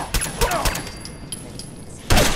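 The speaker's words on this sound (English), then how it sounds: "Shoot him! Shoot him all!" Gunfire in the VR game Fallout 4, with several sharp shots in quick bursts followed by a loud closing volley, heard alone with no talking.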